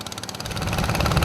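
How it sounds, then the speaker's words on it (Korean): Motorboat engine on a lake in Myanmar, a loud, rough throbbing roar that rises and thickens as the throttle opens, close and continuous. "모터보트는 더욱 굉음을 낸다."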